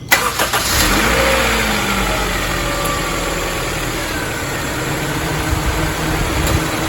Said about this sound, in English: let's go ahead and crank the engine, turn the AC on